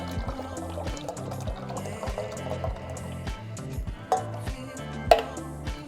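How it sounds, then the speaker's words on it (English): Whole milk and evaporated milk pour into a pot for capirotada bread pudding, a steady liquid stream with small splashes, heard close over a low background. "now we're going to add our milks. So add your whole milk, evaporated milk,"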